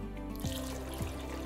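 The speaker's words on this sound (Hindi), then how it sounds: "पानी, ये 2 जग डालेंगे" Water pours from a one-litre jug into a cooking pot holding chickpeas for chana pulao, a faint steady trickling with a couple of gurgling shifts in pitch.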